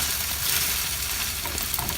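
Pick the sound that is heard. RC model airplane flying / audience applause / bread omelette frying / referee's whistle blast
bread omelette frying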